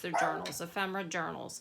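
Dogs barking and yipping in a home during an evening craft session, short bursts tangled with a person talking close by.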